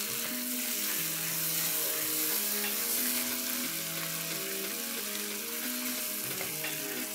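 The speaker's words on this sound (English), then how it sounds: "we need to cook this on high flame till the tomatoes now turn nice and mushy" Tomatoes sizzle steadily in a pan over a high flame while cooking down to a mush, a constant hissing fry with faint stirring scrapes, loud and close, and no talking.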